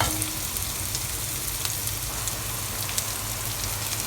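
Onions and green chillies sauté in a pan, giving off a constant, fairly loud crackling hiss with tiny pops scattered throughout and no voices.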